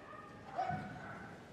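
A single short dog bark, faint and at a distance, rising over crowd noise at an agility competition.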